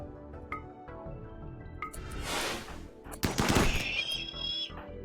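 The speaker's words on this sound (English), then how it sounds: "Okay, the wall is being shot." Mechs in RimWorld open fire on a defensive wall, and bursts of video game gunfire rattle and crackle in two loud volleys. Quieter ticking game sounds run in between.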